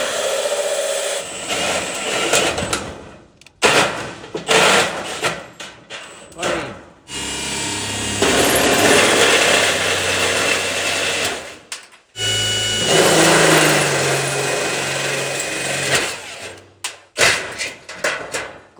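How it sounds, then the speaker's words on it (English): A power drill bores holes through wood framing for electrical wiring during house construction, whining loudly in sustained runs with pauses and clunks between, and people talk over parts of it. "So we're going to drill new holes and run our wire up top, connect the boxes."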